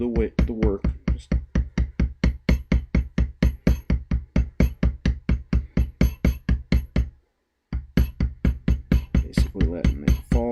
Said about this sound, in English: Let the hammer or the maul do the work.